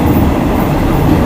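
An ordinary passenger train on the Death Railway near the Kwai River Bridge in Kanchanaburi, Thailand, rumbles loudly and steadily from inside a third-class fan coach, a continuous clattering roar with no talk.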